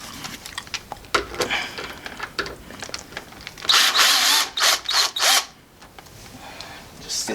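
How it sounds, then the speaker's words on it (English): A power drill removes screws from a door entry lock, several short whirring bursts of the motor, one longer run in the middle, with quieter clicks and handling noises between them. "So we'll use a drill."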